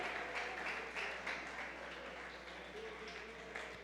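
A church congregation applauds during a Spanish-language worship service, with faint, distant, steady clapping and a voice speaking under it.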